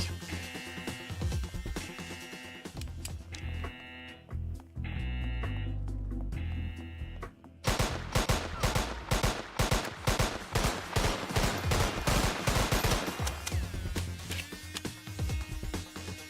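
Uzi submachine gun fire in the PS2 game Don 2, rapid automatic bursts of crackling shots over loud game music, starting as pulsing repeated blasts and then becoming a dense, continuous barrage.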